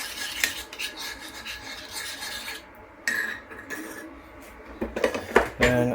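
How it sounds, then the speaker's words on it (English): A swizzle stick stirring the contents of a bowl while making a sweet General Tso's sauce, giving a steady close scraping and clinking against the bowl, with a few louder knocks near the end. "give it a good stir"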